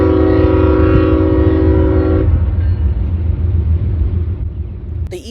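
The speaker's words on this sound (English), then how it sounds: "The eastbound that was actively approaching on CSX's Willard subdivision was CSX I-162" An eastbound CSX I-162 freight train approaches on the Willard subdivision, its horn sounding a long chord over heavy low rumble, then the horn cuts off while the engine roar continues loud and close.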